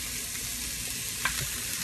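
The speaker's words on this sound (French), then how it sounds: "Tu vois, c'est le bruit qu'on veut entendre. Ça veut dire que les champignons commencent à rôtir," Mushrooms sizzle and fry in a pan for a risotto: a steady, close, hissing crackle with a small pop near the end and no voices.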